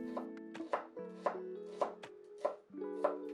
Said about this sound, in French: Émincez l'échalote.